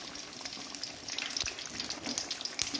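Fish coated in gram flour batter sizzles steadily in a pan over low heat, a dense continuous crackle with scattered small pops close by.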